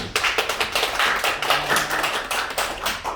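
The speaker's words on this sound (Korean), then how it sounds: "멀리서 오신 김길만 선생님 큰 박수 한번 부탁드립니다." Brisk, dense clapping from a seated audience at a Sinchon community concert, with quick hand claps overlapping in a lively stream that runs without pause.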